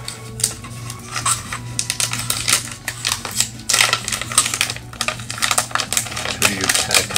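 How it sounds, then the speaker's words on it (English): Plastic case being worked off a Moto G6 Plus phone, a dense run of close, sharp clicks, snaps and rattles in quick irregular bursts, with no talking. "So let's pop it out."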